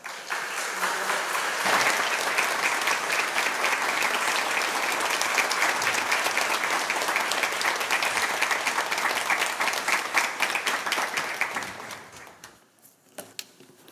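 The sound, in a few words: congregation welcoming applause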